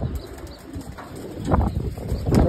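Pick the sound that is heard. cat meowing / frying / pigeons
pigeons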